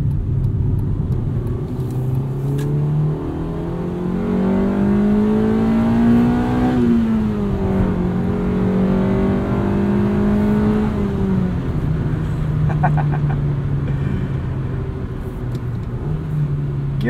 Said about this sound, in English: Gearing isn't necessarily tall as the engine just revs so high.